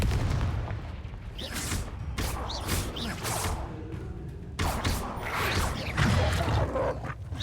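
Combat spells from Hogwarts Legacy burst out in repeated booming blasts and whooshes, loud and close, with dense effects layered over one another and no talk.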